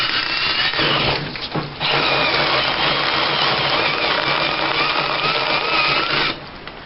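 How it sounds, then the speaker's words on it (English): A power drill whirs loudly into a dried gourd, pausing briefly early on, then running steadily for several seconds before stopping. "take the drill and drill into it and see what we get"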